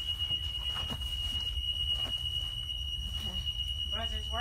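A steady high-pitched electronic buzzer sounds continuously from the rear emergency door of a school bus, holding one unbroken tone over low vehicle rumble, with a voice speaking near the end.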